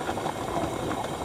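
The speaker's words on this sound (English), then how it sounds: "I can hear it boiling inside, and there's starting to be fairly steady steam coming out of the petcock" Pressure canner full of jarred whitefish boiling on the stove, a steady rushing hiss of steam escaping from the petcock with bubbling underneath, close and continuous with no voices.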